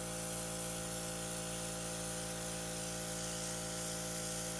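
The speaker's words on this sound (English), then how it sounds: "Pour in some of our mystery brown, and let's go ahead and give it a spray." An airbrush sprays brown custom-colour primer in a steady, continuous hiss that stays level and unbroken throughout, with no talking.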